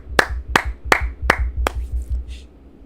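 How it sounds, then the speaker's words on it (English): A lone person claps five times close to the microphone, sharp and evenly spaced, then stops, with a faint low hum underneath. "Can I just get a round of applause"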